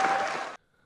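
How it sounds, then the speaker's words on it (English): Audience applause at a political debate, a dense burst of clapping that cuts off abruptly about halfway through, leaving near silence. "Lemmings in the audience who just applaud"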